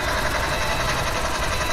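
A video game helicopter drones steadily in flight with a dense, continuous engine and rotor roar, loud and unbroken, with no speech over it.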